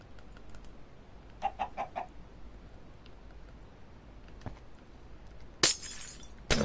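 A chicken clucking in a block-building video game, several short clucks in a quick burst, then a few scattered clicks, and a sharp glassy breaking crash near the end, with no speech.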